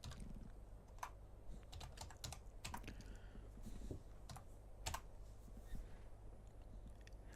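Typing on a computer keyboard to enter a Linux install command: a quick run of light, close keystrokes in irregular bursts over a low background hum, with no talking.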